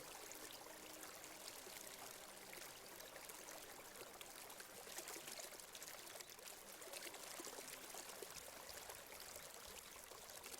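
A mountain river flows in a steady, even rush of water, faint and continuous throughout with no breaks or voices.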